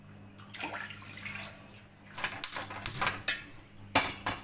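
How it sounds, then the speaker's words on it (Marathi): Water splashes and pours into a metal pot in uneven bursts, with clinks of the vessel, close by and moderately loud. "आता याच भांड्यामध्ये दोन ग्लास पाणी घेते मी"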